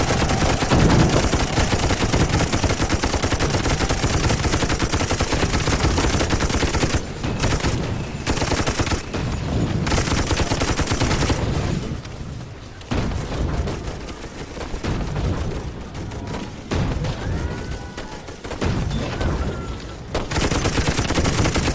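Relentless machine gun fire rattles through a battle in the video game Toy Soldiers, loud and nearly continuous with overlapping bursts and only short lulls, amid occasional booms and no talking.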